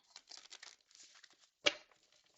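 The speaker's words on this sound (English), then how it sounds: "This is like not an easy deck of cards to shuffle because they are shaped in a heart." Soft papery riffling and scraping of a heart-shaped deck of cards being shuffled, quiet and close, in short uneven bursts with one sharper flick near the end.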